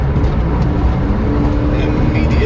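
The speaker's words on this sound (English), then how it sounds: "So I'm gonna drop 2 gears and punch it" A Porsche 911 in sport mode with manual shifting, dropping two gears from sixth and accelerating hard, heard as a loud, close, continuous engine roar with broad road rumble.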